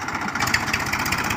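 A tractor engine idles on a farm where it has been brought in for field work, giving a steady, continuous mid-range mechanical drone with a faint low rumble, close and unbroken, with no talking.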